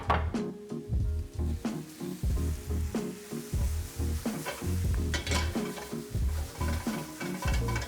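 Thinly sliced peppers and onions sizzle steadily in a hot pan, with a dense continuous fry broken by frequent scraping and clinking of a utensil stirring against the metal, close and fairly quiet.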